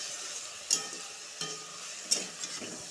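Okra fries in a pan with a soft, quiet sizzle, punctuated by a few brief stirring scrapes spaced about every second or so; no talking.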